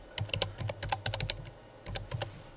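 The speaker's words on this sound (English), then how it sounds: "So you type in your name" Keys clatter on a computer keyboard as someone types in a username and password, two bursts of quick, close clicks separated by a brief pause.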